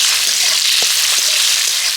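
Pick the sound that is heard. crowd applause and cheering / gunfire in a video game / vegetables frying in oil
vegetables frying in oil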